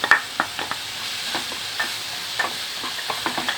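Onion with curry leaves and coriander is sautéed and stirred in a pan, with quick, rhythmic spatula scrapes over a steady, close sizzle and hiss, and no voices.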